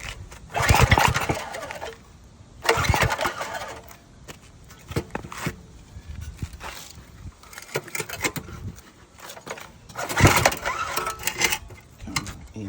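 A small pressure washer engine, bought cheap, is pull-started by hand on a floor: several separate bursts of rapid cranking and rattling recoil-cord pulls, close and loud, with quieter handling noise between attempts.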